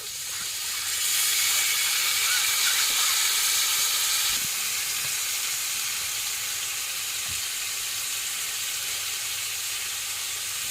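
Chopped ginger and a splash of water hitting a hot pan, a loud steady sizzle and hiss that surges after about a second and continues alone, easing slightly midway with a couple of faint clinks.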